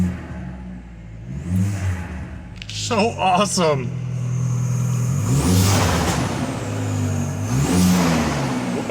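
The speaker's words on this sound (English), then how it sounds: "Listen to that turbo whistle." A tuned VW Passat 1.8 turbo engine with aftermarket intake and exhaust revs in rising and falling sweeps, a faint turbo whistle climbing over the engine note, while someone talks over the start and briefly exclaims.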